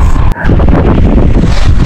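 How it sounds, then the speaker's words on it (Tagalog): Strong wind at sea during a fishing trip roars across the microphone as a loud, steady buffeting rumble with a brief dropout near the start. "Ang lakas ng hangin."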